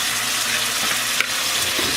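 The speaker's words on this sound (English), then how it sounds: "And then we're simply going to add broth or stock, whatever you want." Broth poured into hot turkey drippings in a roasting pan, giving a loud, steady, close sizzle with a watery frying hiss that holds evenly, with one brief clink partway through and no talking.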